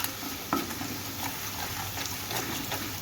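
Vegetables mixed with masala being stirred in a pan for a traditional Holi festival meal, a steady close scraping and soft sizzle with a few spoon knocks against the pan.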